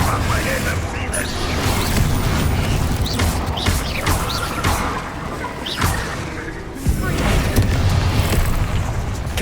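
Confringo and Bombarda spell blasts in the Hogwarts Legacy video game, a dense run of heavy booms and crashing impacts rolling over each other, loud and continuous, with a few sharper hits standing out.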